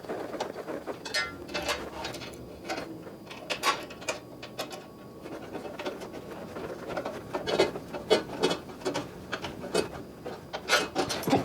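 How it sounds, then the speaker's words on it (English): An Allen wrench tightens socket head cap screws on a saw rail and strut assembly, giving irregular close clicks, scrapes and rubbing metal-on-metal sounds in short bursts with small pauses between. "So we just take the Allen wrench and just torque these down."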